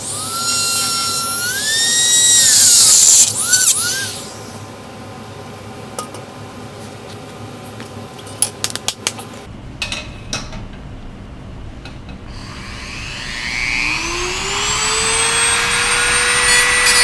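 Power drill cutting holes in an electric tricycle build, whining loudly at first with rising and falling pitch, then scattered clicks and knocks, followed by the motor spinning up again with a climbing tone.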